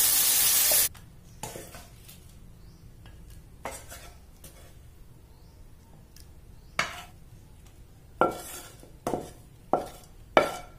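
Butter shrimp cook in a pan: a loud sizzling burst opens, then sharp utensil clanks and scrapes recur against the pan in an uneven rhythm, close and without talking.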